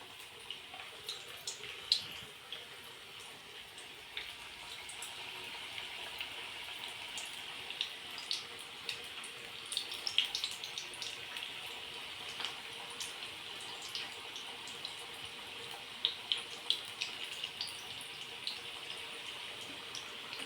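Large bhaji vadas made from batter frying in very hot oil, a steady close crackle and hiss of bubbling oil dotted with sharp pops and spits throughout, with no talk.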